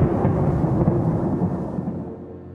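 Continuous rolling thunder, a deep sustained rumble that stays loud throughout and tapers slightly toward the end, with no voices over it.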